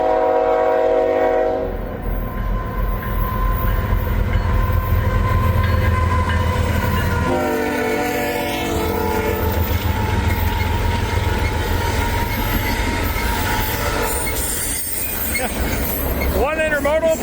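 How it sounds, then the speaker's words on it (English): Intermodal freight train passing a level crossing with gates down, sounding a loud horn at the start and again midway over the steady roar and rattle of the cars, with a person talking over it. "Try to get a horn salute out of this fella."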